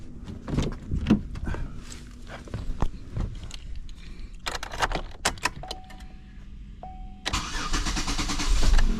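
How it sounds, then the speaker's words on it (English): A 2009 Chevy Equinox with a freshly replaced coolant temperature sensor: keys jangle and click in the ignition, a chime sounds, then the engine cranks and catches into a steady close idle. "Then let's start the car and let's see if there's a leak on the sensor."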